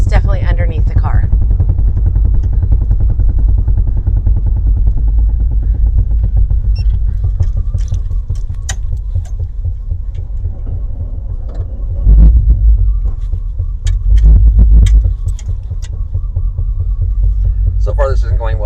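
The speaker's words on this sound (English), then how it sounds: "There's a clunkety, clunkety, clunkety, clunkety." Loose drive shaft on a 1950 Cadillac clunking underneath the car while driving, a deep continuous throbbing rumble with heavier thumps as it goes, close and loud.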